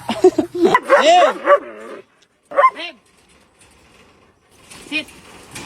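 A dog barks and yelps in quick excited bursts up close, with whining cries between them, a brief pause, then more short whimpering yips.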